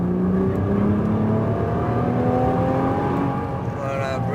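Nissan GT-R Premium on an autocross course, engine revving with rising tones as it accelerates, steady and loud in the cabin, with a voice speaking over it.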